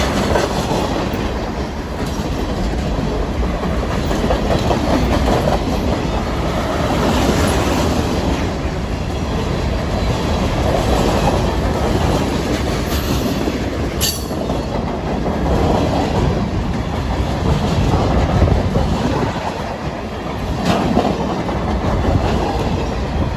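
A train rolls continuously past on the CSX Aberdeen Subdivision in Aberdeen, North Carolina, a loud, steady rumble with rhythmic clickety-clack of wheels over rail joints and occasional squeals throughout.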